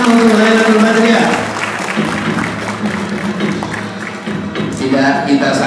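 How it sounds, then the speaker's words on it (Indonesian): Applause and crowd noise greet a female pencak silat performer at an event in Pangkalan Bun, loud at first and then tapering off with voices mixed in before rising again near the end. "Tepuk tangan untuk Laila Nurbadriah."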